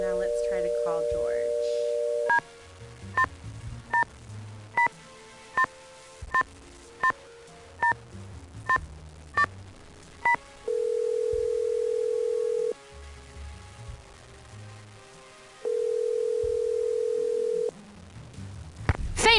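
A telephone in the Nancy Drew game Stay Tuned for Danger plays a steady dial tone, then a run of evenly spaced dialing beeps, followed by two long ringback tones separated by a short pause.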